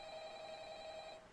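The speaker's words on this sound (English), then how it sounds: "Answer the phone!" A telephone rings in the Roblox game Intruder, one steady electronic ring heard clearly up close, lasting about a second before cutting off.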